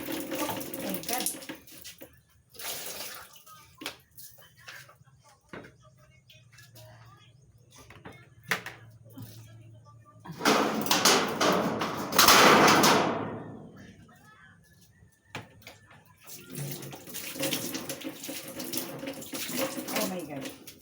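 Water gushes out in a heavy stream after something breaks, a loud rushing pour that swells and fades in bursts, mixed with thumps and a person talking in between.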